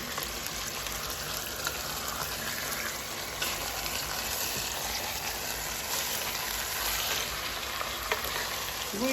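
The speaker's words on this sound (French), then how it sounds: "je suis toujours en train de mélanger. J'ai mis du coup les saumons déjà assaisonnés." Continuous sizzling and stirring as seasoned salmon is mixed with onions in a hot pan, a steady close hiss without pauses.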